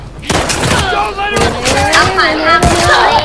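Sharp gunshot bursts from The Last of Us Part II video game crack out several times while someone talks loudly over them.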